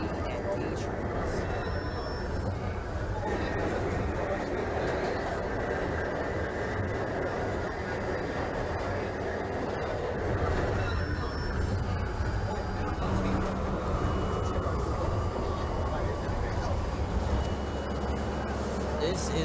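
Simulated NYC subway A Express train from Trainz Simulator 2012 rolls along with a steady, continuous rumble and rail roar, with automated station announcements spoken over it.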